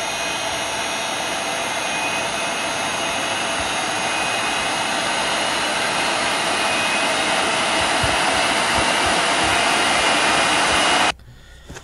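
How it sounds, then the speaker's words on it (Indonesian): Electric motor driven by a variable frequency drive, run up to a speed of 150, makes a steady, loud broadband whir with a constant tonal hum, running unchanged for about eleven seconds before cutting off abruptly. "jadi motornya bisa jalan sampai 150"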